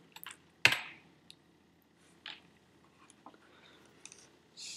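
Sparse clicks and taps of a computer keyboard during a programming session, a few separate keystrokes with one louder clack, close and quiet with no talk.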